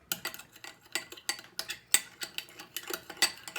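Homemade night cream is whisked briskly in a bowl, a quick uneven series of close metallic clicks and taps as the whisk strikes the sides.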